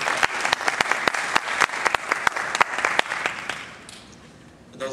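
Audience applause for the West Rowan High School Band at the 2010 Orlando Heritage Festival, a dense burst of many hands clapping that fades out toward the end, with a faint voice near the close.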